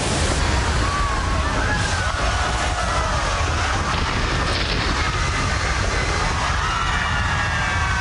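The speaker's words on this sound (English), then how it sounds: "The entire contents of these tanks release and come cascading down these ravines in about a 5 to 10 second time frame." Water released from large tanks on a theme park studio tram tour crashes and cascades down artificial ravines, producing a loud, continuous roaring wash of rushing water that stays dense and steady throughout.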